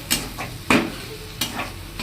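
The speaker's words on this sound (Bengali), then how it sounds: "ডিম দিয়ে এটা একটু ভাজা হচ্ছে" Eggs frying in a pan with pasta, a soft sizzle broken by three sharp scraping strokes of a utensil, close and without voices.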